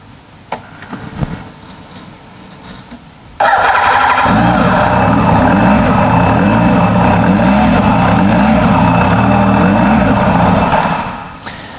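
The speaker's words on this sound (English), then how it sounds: "4-cylinder car engine with a turbo on it. Turbo muffles it a little bit, but it sounds so smooth" After a few quiet clicks, a Munch Mammut 2000 motorcycle's turbocharged four-cylinder car engine starts and settles into a loud, smooth, steady idle that runs close by before cutting off at the end.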